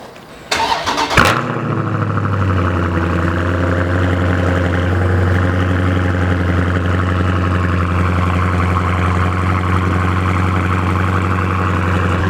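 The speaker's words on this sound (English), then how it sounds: "Now let's go ahead and crank this bad boy." A Ford Mustang V8 cranks with a sharp burst of starter noise, catches and settles into a loud, steady, rumbling idle that holds close and unbroken to the end, with no talking.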